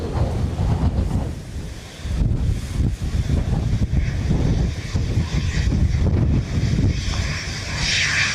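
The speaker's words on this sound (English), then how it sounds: "Definitely quite gusty here now." Strong gusty wind buffets the microphone at Dublin Airport, a loud continuous low roar that swells and surges in waves, with a brief lull near the two-second mark and no talking.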